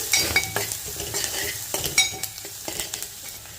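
Onions and green chillies frying in a pan for prawn biryani, a steady sizzle broken by repeated scraping stirs of a spoon against the pan, close and clear.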